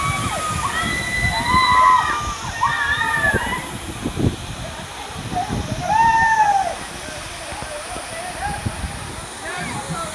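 Gandahati waterfall on the Andhra–Odisha border gives a continuous rushing roar of falling water. Several people chatter nearby over the steady torrent.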